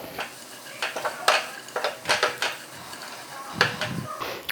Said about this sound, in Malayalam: ഒരു 3 മിനിറ്റെങ്കിലും നമുക്ക് നന്നായിട്ട് ഇങ്ങനെ മിക്സ് ചെയ്തെടുക്കാം